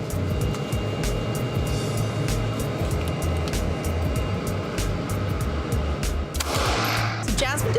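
Gunfire at a shooting range during firearms training, dense rapid cracks and pops layered over a steady low rumble, with a brief louder burst near the end and faint voices in the background.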